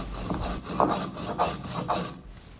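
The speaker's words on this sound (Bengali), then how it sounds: "আমাদের মশলা বেটে নেওয়া শেষ" Spices being ground by hand on a stone for egg khichuri, with rough rhythmic rubbing and scraping strokes repeating about every half second, close and moderately loud, no voices.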